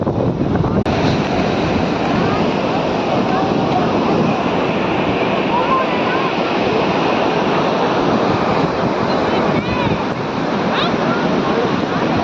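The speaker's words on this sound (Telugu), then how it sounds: "రెగ్యులర్ టైం కంటే బీచ్ అనేది చాలా ముందుకి వచ్చింది." Ocean surf at Kothapatnam beach near Ongole, a dense continuous wash of breaking waves mixed with wind buffeting the microphone, loud and steady throughout.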